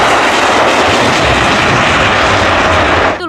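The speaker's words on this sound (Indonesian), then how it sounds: "Selanjutnya ada pesawat terbang." A toy airplane plays a loud, continuous aircraft engine roar, close and unbroken, that cuts off abruptly at the end.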